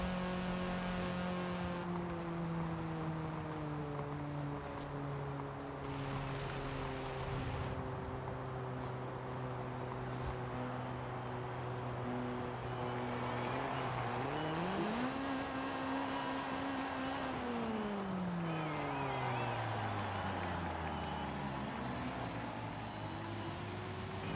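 Honda Civic engine and exhaust revving in the Forza Horizon 5 racing game, a steady loud drone whose pitch climbs and falls through repeated gear changes, with a sharp rev jump midway and no talking.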